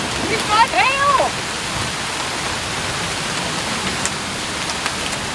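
Hail pelting down during a thunderstorm at a wilderness campsite in Quetico Provincial Park, a dense, steady hiss of hitting ice with a brief voice near the start and scattered sharper impacts.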